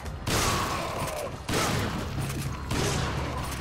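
Shotgun blasts ring out in the video game Resident Evil 5, three heavy booming shots spaced about a second apart, each with a loud attack and a ringing decay.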